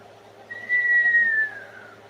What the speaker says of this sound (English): Oh, hey, I whistled.